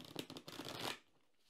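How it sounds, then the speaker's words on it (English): Tarot cards from a Fantastical Creatures deck being shuffled by hand, a close, quick run of papery riffles and flicks lasting about a second before falling to near silence. "So we're going to go ahead and shuffle the cards,"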